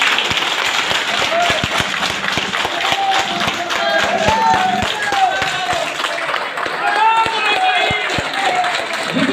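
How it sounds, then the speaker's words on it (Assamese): An audience at an indoor training event claps in a sustained round of applause, dense and fairly close, with voices talking over it. "একবাৰ হাত চাপৰি দিয়ক"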